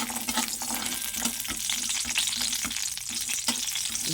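Sun-dried lentil dumplings (bori) fry in oil with a steady, close sizzling hiss, spattering crackles and occasional stirring knocks running throughout.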